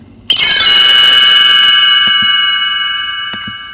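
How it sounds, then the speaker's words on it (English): A single chime on a read-along record strikes sharply and rings out as a bright, sustained metallic tone that slowly fades, with faint soft ticks under the decay. "You will know it is time to turn the page when you hear the chimes ring like this"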